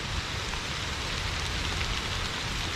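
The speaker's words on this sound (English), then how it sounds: "It's been raining for a good hour now, solidly, heavily in most cases." Heavy, steady rain falling in woodland, a dense even hiss of drops close by with no pauses, continuous for the whole stretch.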